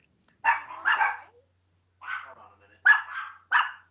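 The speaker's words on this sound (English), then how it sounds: "the dog's barking" A dog barks in several short bursts, two quick pairs followed by a pause and then further barks, loud and close in an indoor room.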